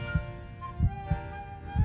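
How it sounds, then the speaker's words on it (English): Human heartbeat, steady lub-dub pulses thumping low and clear, four beats in under two seconds with a faint hum between them, no voices. "The sound of a heartbeat is an affirmation of life."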